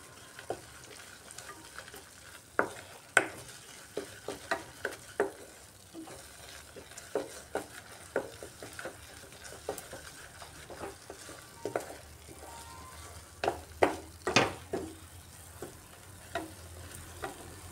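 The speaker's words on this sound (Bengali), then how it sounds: "আর একটু সময় কষাতে হবে মশলাটাকে।" Masala sizzles and fries in oil in a pan for an egg kosha curry, with a steady low sizzle broken by repeated sharp scraping stir strokes and clinks throughout.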